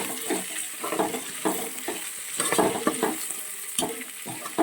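Mint leaves fry in ghee for masala ghee rice, a continuous bright sizzle broken by scraping stirs and spoon clatter close by, no talking.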